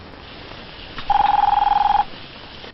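A telephone in a hotel room gives one short electronic trill of about a second, a rapid buzzing ring standing out against a quiet room.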